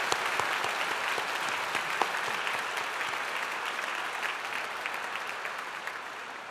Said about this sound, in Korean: 모든 순서자들에게 다시 한번 뜨거운 박수 올려드리겠습니다